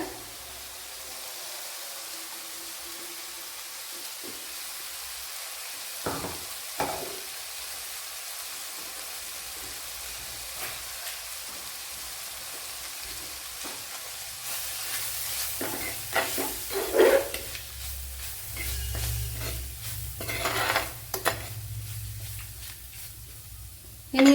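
Crushed spice paste frying in a pan for a beetroot dish: a soft steady sizzle with scraping stirs that grow busier and louder toward the end, close up, no speech.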